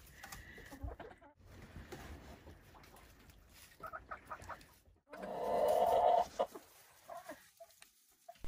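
Silkie chickens clucking nearby in short scattered bursts, with one louder sustained squawk in the middle and quiet gaps between, on a farm in Vermont.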